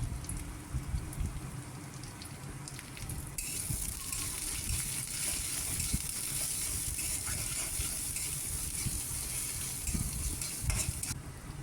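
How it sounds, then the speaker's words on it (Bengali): Turmeric, salt and chili powder fry in a pan for an egg and potato curry, a faint, continuous sizzle with soft scraping stirs running steadily under low room noise. "আমার মশলাগুলো কষানো হয়ে গেছে"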